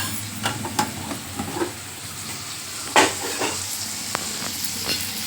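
Onion sautéing in a pan with turmeric and ground coriander-cumin powder, a low steady sizzle broken by a few scraping stirs and taps of a spoon, quiet and close with no speech.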